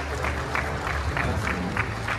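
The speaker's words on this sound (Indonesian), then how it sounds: "Kita beri tepuk tangan yang mulia" Crowd at an LDII DKI Jakarta regional leadership meeting applauding Pramono Anung, a broad, steady clapping with a faint, regular pulse, heard from the middle of the hall.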